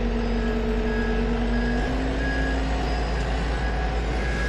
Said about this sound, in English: we got new truck coming in